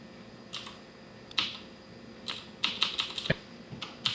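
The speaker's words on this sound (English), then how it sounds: "I have smashed the keyboard a bunch on the comma key to dump myself out of time warp" A computer keyboard's comma key hammered over and over while playing Kerbal Space Program, giving sharp plastic clicks in quick irregular bursts, close and fairly loud with no talk.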